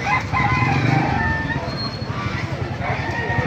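A rooster crows among other fowl at Baliuag's open-air tyangge market, with clucking and bustle in the background and someone talking over much of it.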